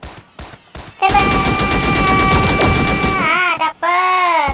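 Rapid automatic gunfire rattles loudly in the Sausage Man video game, a dense burst of shots layered with ringing game tones, followed by shorter electronic sweeps.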